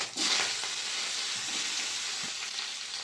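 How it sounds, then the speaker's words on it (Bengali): Dried chillies and five-spice tempering hit hot oil, giving a steady, bright crackling sizzle that runs unbroken and fairly close throughout. "এই তেলের মধ্যে দিয়ে দেবো শুকনো লঙ্কার 5 ফোড়ন, কেটে রাখা মূলটাও দিয়ে দেবো"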